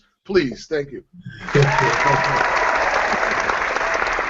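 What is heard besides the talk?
applause sound effect played from a soundboard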